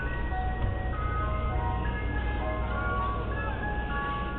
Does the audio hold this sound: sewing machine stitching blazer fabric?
no